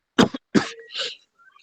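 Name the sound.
cough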